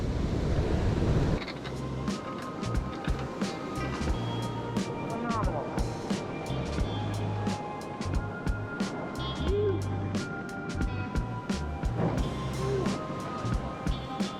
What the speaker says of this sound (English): We're out here Tuesday morning, Hurricane Franklin swell offshore.